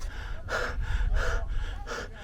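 A person pants heavily while climbing Mount Bromo in Indonesia, with about four loud, rhythmic gasping breaths close to the microphone.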